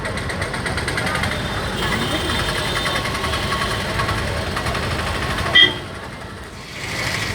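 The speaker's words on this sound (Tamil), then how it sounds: "என்ன டிராஃபிக் ஜாமாக இருக்குது." Evening traffic jam on a road between Tirunelveli and Papankulam, a steady rumble of idling engines with a few short car horn toots, near and loud.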